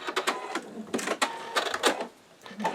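Sewing machine with a laser guide attachment at work, giving a run of brisk, close mechanical clicks and snips with short pauses between bursts, as if the thread is being cut.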